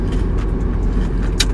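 Low, steady rumble of a car interior on the move, a constant road-and-engine drone with a faint brief tick near the end and no voices.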